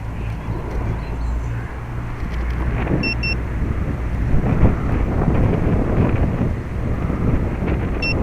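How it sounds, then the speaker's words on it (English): Gusty wind buffets the microphone of a Syma X8 quadcopter frame fitted with Bugs 3 parts, a steady roaring rumble that swells in gusts, with faint motor whine underneath and no talking. "Bloody gusty, isn't it?"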